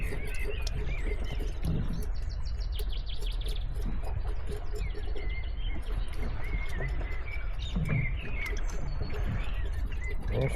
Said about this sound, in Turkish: Bülbül sesleri